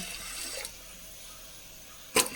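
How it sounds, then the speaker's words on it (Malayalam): Hot water pours into a cooking pot of green gram, a hissing splash for about half a second. Quiet follows, then a second short, sharp burst of water at the end. "ആവശ്യത്തിന് വെള്ളം ഒഴിച്ചു കൊടുക്കാം"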